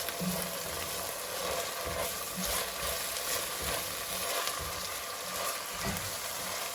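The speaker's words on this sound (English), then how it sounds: "We add the garlic in last so that we can saute it properly without burning the garlic" Garlic sautés in a pan for chicken curry, a continuous dense sizzle with soft intermittent stirring movements, steady and close throughout.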